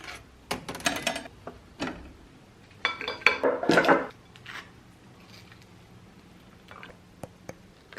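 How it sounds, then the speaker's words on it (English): Plates, cutlery and utensils clink and clatter in a home kitchen while peanut butter toast is made, coming in scattered bursts of clinks and scrapes with quiet gaps between them. No one speaks. "I am just gonna make a peanut butter toast"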